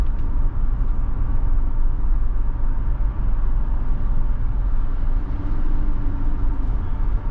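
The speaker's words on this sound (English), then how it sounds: "Some road noise, some exterior noise from the cars going by" Steady low road rumble inside a 2023 Toyota 4Runner Limited 4x4 cruising on the highway, a constant broadband drone of tires and passing traffic with no talking.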